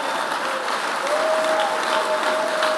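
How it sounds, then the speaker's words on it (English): Church congregation at a conference blessing service clapping together, a dense, steady wash of applause that holds at an even level throughout, with a faint sustained tone running beneath. "I want you to clap."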